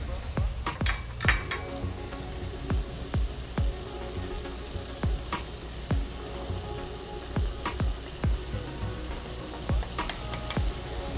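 Chicken frying in a pan with pepper and garlic sizzles steadily while a utensil stirs it, with regular scraping strokes against the pan roughly every second, close and moderately loud.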